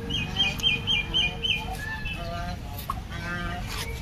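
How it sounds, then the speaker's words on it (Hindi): Turkey calling nearby outdoors, a series of short repeated gobbling chirps early on followed by scattered calls over a low rumbling background, with faint voices. "ये देखो ये टर्की है"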